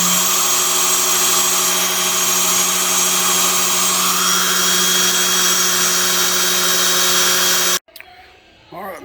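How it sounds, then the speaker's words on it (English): A power drill whirs at steady high speed, spinning the oil pump to prime a freshly built 350 engine, loud and close and running continuously for about eight seconds before cutting off abruptly into quieter room noise. "Gonna hook the drill to it and prime it right now"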